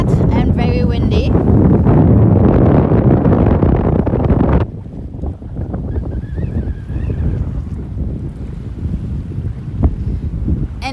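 Strong wind sweeps across the flat beach at Nettle Bay by the lagoon, roaring and buffeting the microphone loudly for several seconds before easing into a steadier, lower gusting rush.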